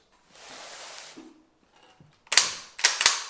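Rounds cycle through a Ruger 96/22M lever-action rifle. Quiet handling noise comes first, then a few sharp, close metallic clacks of the lever action in quick succession.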